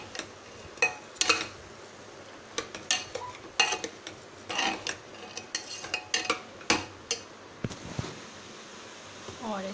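Paneer and cashew pulao with rice, salt and red chili powder stirred in a pot with a metal spoon: repeated sharp scraping clinks in an uneven rhythm, close and clear, with no talk over them.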